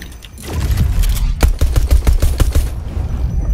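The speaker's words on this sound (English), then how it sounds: "Wait, someone sniped at me." Rapid bursts of gunfire in a video game, loud and close, with a quick series of sharp cracks clustered in the middle of the moment.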